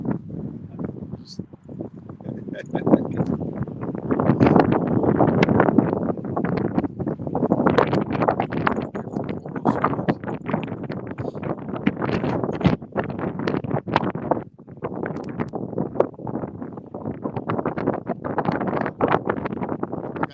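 Steady wind buffets the microphone outdoors on the Ohio River, a loud continuous rushing roar that surges and dips over about twenty seconds with no clear pauses.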